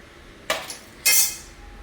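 A lid is closed on a cooking pot, two sharp metallic clanks about half a second apart, the second brighter and longer with a short ringing tail, close and clear with no talking.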